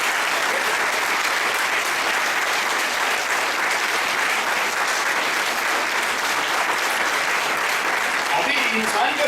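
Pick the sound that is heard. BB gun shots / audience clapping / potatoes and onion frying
audience clapping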